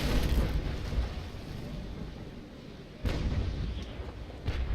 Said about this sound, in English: I plan to fully indulge in some cannon fire on that good Cerberus